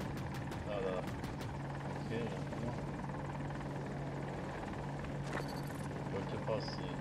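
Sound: AH-64 Apache helicopter in a video game

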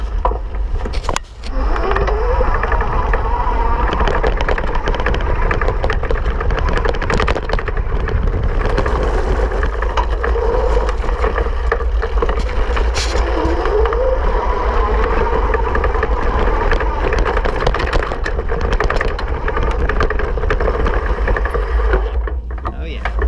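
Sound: E-Lux Sierra electric bike riding off-road at full power

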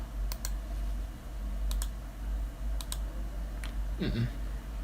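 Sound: mouse clicking while playing a gem game

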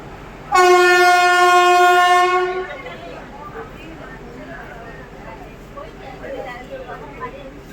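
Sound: Ernakulam–Karaikal Express train overtaking

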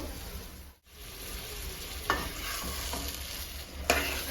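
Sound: stirring mushroom masala with water in pan

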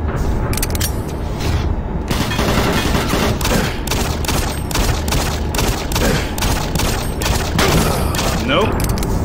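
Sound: pistol gunfire in the video game Doom 3

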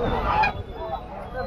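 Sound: black duck at a poultry market

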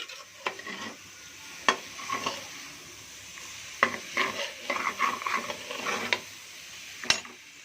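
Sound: stirring bottle gourd pieces with masala in a pan

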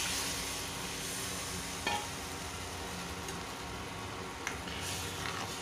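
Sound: prepared batter poured into pot for kadhi

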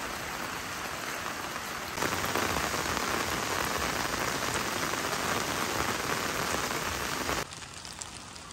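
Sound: heavy rain

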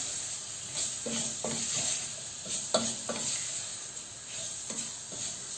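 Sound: stirring onions frying in pan

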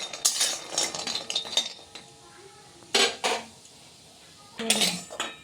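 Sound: stirring and lifting fried lentil dumplings (bori) in pan

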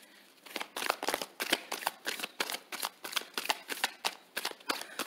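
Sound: shuffling Moonology Oracle Advice cards

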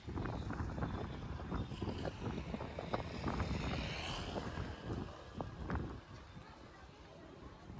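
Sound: strong wind

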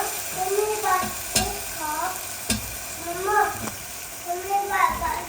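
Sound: masala being stir-fried in a pan

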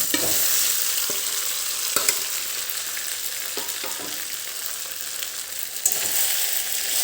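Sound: chopped cabbage-fenugreek muthiya stirred and frying in a pan

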